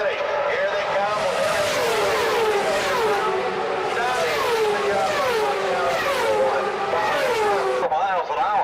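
Open-wheel race cars at the 2000 Michigan 500 roar continuously as a pack battles for the lead, engine pitch rising and falling with each pass while a commentator talks over the noise throughout.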